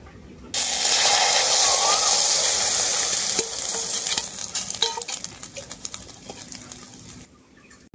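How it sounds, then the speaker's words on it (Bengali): Egg and gram flour batter hits hot mustard oil in a pan, giving a loud, steady sizzle that starts abruptly, holds strong, then gradually fades and crackles toward the end. "তেলের মধ্যে আমি দিয়ে দেব বেসন আর ডিম একসাথে ফেটানো।"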